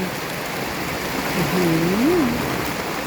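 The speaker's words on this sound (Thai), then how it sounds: "ฝนตกมากเลยดูเช่นผู้ชม" Heavy storm rain pours down in a steady, loud, dense roar with rushing water, and a faint wavering tonal whine rises briefly midway.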